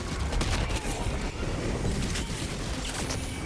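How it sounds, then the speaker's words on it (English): A dense, rumbling burst of explosions and gunfire erupts from the Helldivers 2 video game, a grenade blast within a loud, continuous battle din lasting a few seconds, with no clear talking. "Grenade!"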